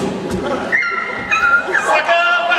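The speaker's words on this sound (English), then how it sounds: "throw a rock at the dog to get him out of the way" A small dog yelps and whimpers in a run of high, wavering cries with short pauses, fairly close, over a steady background murmur of people.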